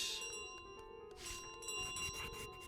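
A bell is picked up in Untitled Goose Game, giving soft, faint ringing tones that linger as sustained pitches over quiet game background sounds.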